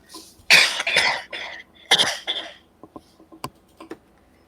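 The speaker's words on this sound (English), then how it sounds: "If you want to cough" Several harsh coughs close by, a cluster of bursts followed by another pair, then quieter throat sounds and small clicks.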